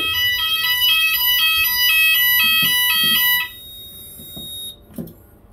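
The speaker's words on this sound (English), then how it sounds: "So the fire alarms are going to ring." A building fire alarm sounds in rapid repeating electronic pulses, loud and close, then cuts off after a few seconds, leaving a quiet room with faint handling noises.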